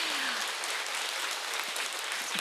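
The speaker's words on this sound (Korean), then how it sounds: "박수 한번 주십시오." Audience applause at a talk concert on human dignity, a steady dense wash of clapping from a seated crowd filling the room, with no talk over it.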